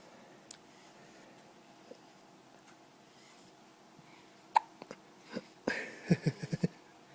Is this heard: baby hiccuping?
yes